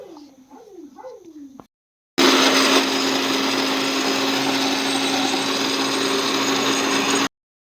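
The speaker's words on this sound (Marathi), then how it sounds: "बटाटे शिजूसपर्यंत आपण मिक्सरला शेंगदाणे आणि मिरची बारीक करून घेऊ." A mixer grinder whirring through peanuts and green chillies, a loud steady motor roar lasting about five seconds before stopping sharply, after a brief moment of someone talking.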